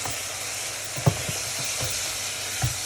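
A hot pan for macaroni cheese hisses steadily as milk goes in, with a couple of soft knocks and scrapes from stirring close by.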